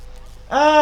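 A cat meows once in LEGO City Undercover, a short, clear, rising-falling call that begins after a moment of near silence.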